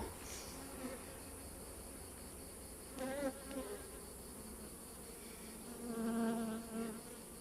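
Steady, low buzzing of many honey bees at a hive, close and continuous, with a few louder passes swelling now and then.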